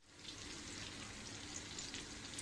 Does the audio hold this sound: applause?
no